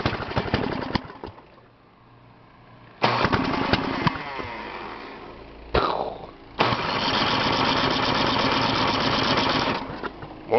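A small engine on full choke cranks and sputters in loud uneven bursts, dropping into short quieter gaps between attempts before it catches and runs roughly, up close.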